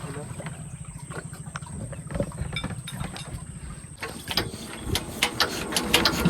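A fishing boat engine in the Sundarbans starts up and runs with a fast, steady mechanical chugging that turns louder and rougher after a few seconds, with faint voices in the background.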